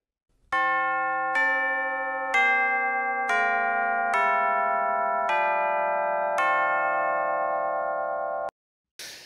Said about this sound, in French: en général, ce son-là, très précis, c'est une cloche tubulaire